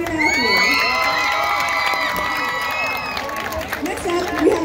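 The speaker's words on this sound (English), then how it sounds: "Let's give a round of applause for Serenity and Matthew." A high school homecoming game crowd cheers and applauds, with sustained shouting, whoops and overlapping young voices filling the stands.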